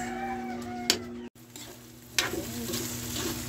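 Ingredients for spaghetti sauce sauté in a pan with a steady close sizzle, broken by a brief silent gap and scraping stirs.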